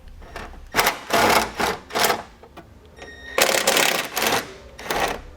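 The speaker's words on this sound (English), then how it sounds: "Now I'm going to be using a 10mm socket to take all of those off." A socket wrench removes 10mm bolts from a 2017 GMC Terrain during a base plate installation, with loud, rapid ratcheting bursts in quick succession and brief pauses between them.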